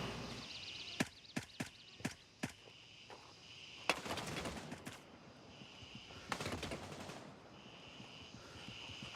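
Video game gunfire aimed through bushes: a run of sharp, quick shots followed by two denser bursts of rapid fire, with quiet stretches between and no talk.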